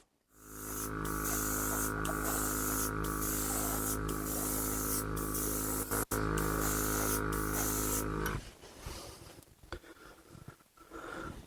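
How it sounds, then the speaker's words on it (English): Airbrush spraying water-thinned varnish, a steady loud hiss of air and spray running for about eight seconds with a faint hum beneath, then cutting off into quiet handling noises. "We had a little bit of a problem with the amount of spray that was coming out"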